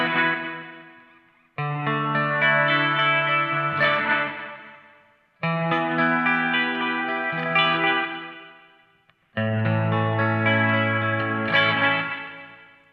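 Sustained guitar chords through a Mad Professor Kosmos Reverb pedal in tape delay mode, each ringing out with fading echoed repeats behind it, three strums separated by short pauses.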